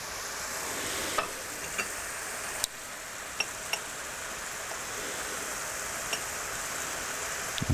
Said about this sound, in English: So Simo, the spinach has been cooking almost 10 minutes now.